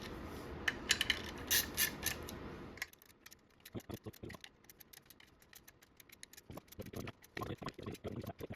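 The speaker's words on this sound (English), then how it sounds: "we're gonna run it in by hand first with a small ratchet by hand." A small hand ratchet runs in the clutch pressure plate bolts on a 2017 Honda Civic, with quick, close, light clicks after a louder mechanical rustle at the start.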